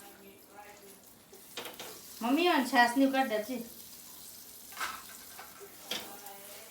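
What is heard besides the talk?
pav buns frying in butter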